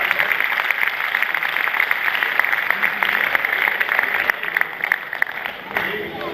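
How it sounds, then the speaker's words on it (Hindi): Sustained applause from a seated audience at a Hindi poetry gathering in Jaipur, a dense steady wash of clapping that runs throughout and thins slightly near the end. "भरपूर तालियां"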